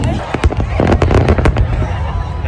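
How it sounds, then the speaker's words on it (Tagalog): Fireworks at a fireworks festival in Japan burst in rapid succession, a string of sharp cracks and booms over a loud, continuous background din. "Ito na ang simula ng fireworks."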